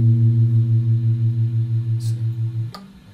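A dissonant minor second played on guitar sounds as a sustained, close-up pair of notes whose clashing pitches produce a steady wobbling beat, ringing for under three seconds before stopping.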